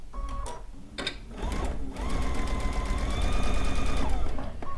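A sewing machine stitches a seam on a stone log cabin quilt block, buzzing steadily and loud, with its whirring rhythm rising in speed partway through.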